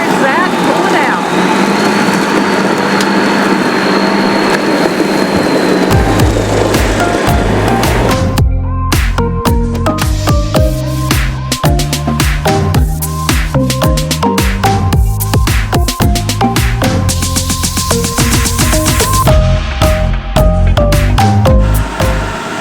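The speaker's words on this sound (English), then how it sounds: "And there is Zack pulling out" A Prevost motorhome pulls out at the start of an RV trip in hot Texas weather, a loud close engine rumble and road rush that builds into a steady roar throughout, joined by heavy wind and rattling noise.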